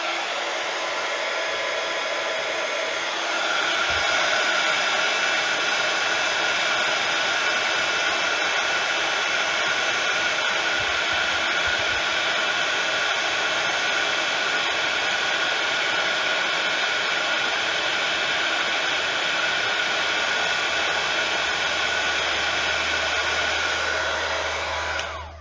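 Embossing heat tool blowing a steady, loud hot-air roar across cardstock for about 25 seconds, evenly sustained with no talking, before switching off at the end.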